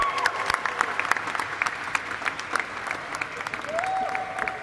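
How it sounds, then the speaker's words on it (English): Applause from an audience at a stock exchange bell ringing ceremony for TAC Security, a steady wash of clapping with sharp individual claps standing out, moderately loud and continuous throughout. "let's have a huge round of applause, ladies and gentlemen"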